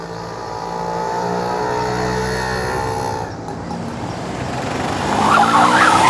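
A car drives and skids on a road, a steady engine-and-tire roar building to a louder screech near the end, with no voices.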